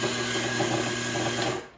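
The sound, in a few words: Azkoyen brewer coffee bean grinder grinding beans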